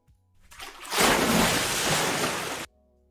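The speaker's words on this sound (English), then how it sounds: "Let's get a nice splash in here." A loud, close water splash used as a sound effect for a short film: a broad wash that builds, holds strongly for about two seconds, then cuts off abruptly, alone with no talk.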